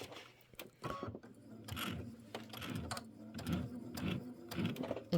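Sewing machine stitching binding into a quilt corner, rapid mechanical whirring bursts starting and stopping in short runs with small clicks between, close and moderately quiet.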